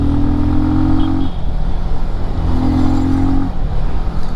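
Benelli TRK 251 adventure motorcycle, a 251cc engine, running smoothly at a steady idle with two brief rises in revs, close and continuous, no talking.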